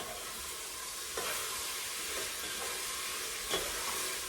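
Tomato paste and broad beans fry in a pan, giving a steady close sizzle with a few louder hisses and stirring scrapes as they go in.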